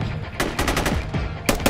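Enemy gunfire in Squad, a quick series of sharp automatic bursts over under two seconds, loud and close, with no speech.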